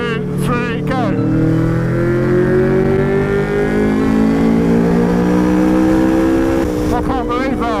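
A motorcycle engine climbs hard through its rev range in one long sustained pull, loud and close, its rising whine holding for several seconds before easing, with brief voice or engine chatter at the start and end.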